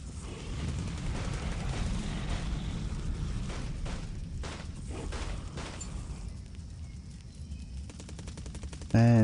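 Distant bombardment at Vigan in a war strategy video game, a sustained low rumble of fire with repeated bursts and thuds over about nine seconds, ending in a louder sudden blast.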